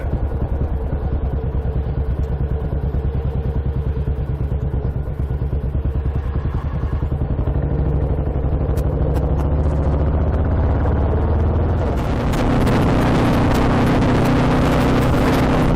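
A Moto Guzzi motorcycle sets off on a sunny ride with a full tank, its engine a steady, loud, close throb as it pulls away, then rising to a harsher roar with wind noise as speed builds.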